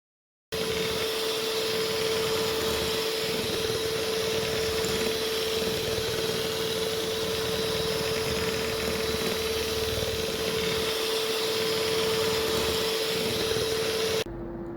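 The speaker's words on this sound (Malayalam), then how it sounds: "വലിയൊരു ബൗളെടുത്ത് അതിലേക്ക് തണുത്ത വിപ്പിംഗ് ക്രീം ഒഴിച്ചു കൊടുത്ത് ബീറ്റർ വെച്ച് ഒന്ന് ബീറ്റ് ചെയ്തെടുക്കുക" Electric beater whipping cold whipping cream in a large bowl, a steady loud motor whine with a constant hum running without a break for about fourteen seconds, no voices.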